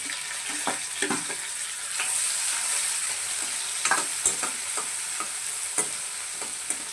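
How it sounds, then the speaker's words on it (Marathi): Chopped onion and garlic sautéing in a hot pan, a continuous sizzle broken by sharp scrapes and clinks of a spatula stirring every second or so, close and clear with no talking. "आता कांदा देखील आपल्याला ना छान असा म्हणजे सोनेरी रंगावर परतून घ्यायचा आहे"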